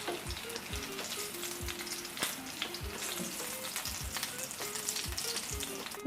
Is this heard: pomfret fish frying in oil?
yes